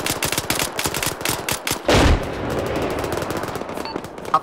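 Arma 3 gunfire: rapid bursts of automatic rifle shots crackle through the first two seconds, then one loud, close blast with a long rolling echo, followed by scattered fainter shots in the distance.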